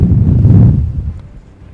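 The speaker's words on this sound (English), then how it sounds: "Whoa, it's really windy." Strong outdoor wind buffets a microphone on a chilly day near a net trap, producing a loud low rumble that swells and then eases over a short moment.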